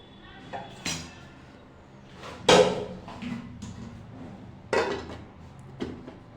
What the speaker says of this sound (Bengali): দেখুন এবার ঢেকে দেবো